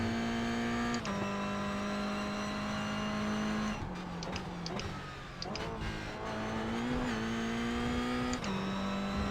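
A GR Cup race car in the iRacing sim game runs continuously through a race at Lime Rock. The loud engine drone steps in pitch with gear shifts and dips briefly through a corner.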